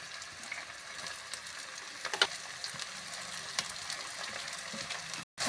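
Chopped ginger and finely cut onion frying in mustard oil and desi ghee in a pan, giving a steady close sizzle with small crackles and a few stirring clinks throughout, with no talking.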